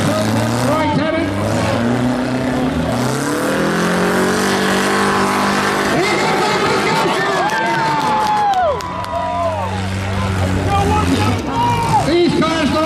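Demolition derby cars at a mini smash event in Barrie, one a Subaru Outback, rev and grind against each other under a loud, steady crowd roar and an announcer's talk, with engine drones and collision noises layered throughout.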